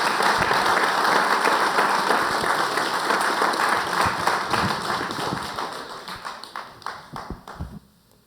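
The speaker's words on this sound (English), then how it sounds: "So maybe give them all a round of applause for coming up." Round of applause from an audience at a lithium company investor day, steady broadband clapping that fills the room, then thins into scattered individual claps before fading out near the end.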